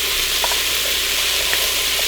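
Unpeeled garlic cloves hit hot oil with translucent onions in an Instant Pot, giving a steady close sizzle and frying hiss with a few faint stirring ticks, no voices.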